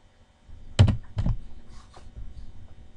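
Computer keyboard keys pressed in a few quick clustered clicks for spreadsheet shortcuts in Excel, close and clear with no talking.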